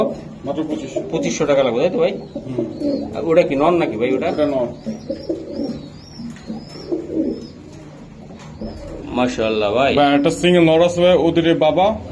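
Pigeons of breeds like Budapest, racer, beauty homer and king, kept for sale, coo softly in the background while someone talks over them for most of the stretch.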